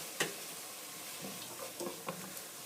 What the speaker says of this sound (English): Just going to stir this around.